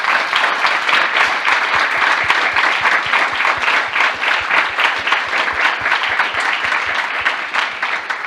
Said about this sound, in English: I was going to ask for a round of applause